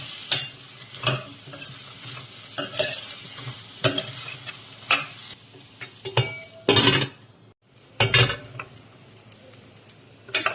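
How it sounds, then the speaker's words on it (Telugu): Tomato curry with potato being stirred in a pan over low heat, a spoon scraping and clinking against the metal in repeated bursts over a soft simmering sizzle, with a brief pause near the end. "మధ్య మధ్యలో కలుపుకుందామండి"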